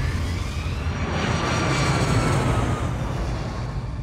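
An airliner roaring down the runway on its takeoff roll, a loud, steady, broadband engine rumble with a rising whine that holds throughout and stays close.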